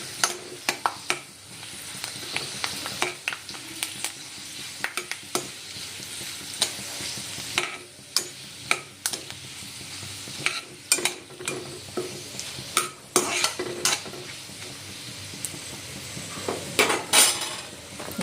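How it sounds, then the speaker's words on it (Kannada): Green chillies fry in a pan for a simple potato palya, a low sizzle under frequent sharp clanks and scrapes of a metal spoon stirring against the pan. "ಇವಾಗ ಸ್ವಲ್ಪ ಒಂಚೂರು ಮೆಣಸಿನ್ಕಾಯಿ ಫ್ರೈ ಆಗಬೇಕು"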